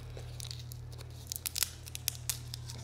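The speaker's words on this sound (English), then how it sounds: "So let's give this sucker an unwrapping" Wrapper being torn open on a watermelon-flavored CBD sucker: a few faint, sharp crinkling rips and crackles over a low steady hum, close to the microphone with no talking.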